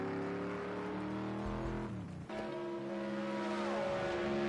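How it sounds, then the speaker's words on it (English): Group C race car engine at Le Mans with the driver fighting the gearbox, a faint distant drone that dips and cuts out briefly mid-clip before the engine note rises again, alone without talk. "And you can hear him struggling with the gearbox in that car."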